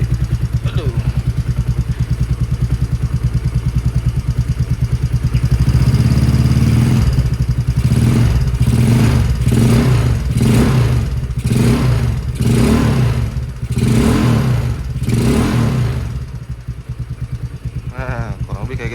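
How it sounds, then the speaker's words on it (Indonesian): Yamaha Mio Sporty scooter with an aftermarket Aqill exhaust idling, then blipped with a series of short, light throttle revs that rise and fall roughly every second, loud and close, with a brief voice near the start. "kurang lebih kayak gitu ya untuk suara sedikit digas lah"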